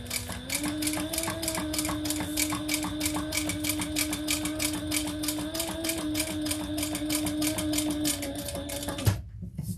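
A sewing machine top stitching a leather waist pack gives a fast, even rattle of needle strokes over a steady motor whine, running continuously and close up before stopping abruptly near the end.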